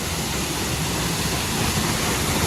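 A waterfall in the Bali jungle roars as a steady, dense wash of white noise, loud and unbroken throughout, with no voices over it.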